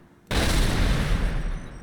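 A sudden loud blast from an explosive weapon in the video game Turok 2 bursts in after a short quiet moment and roars on with a dense, rumbling, crackling wash until the end.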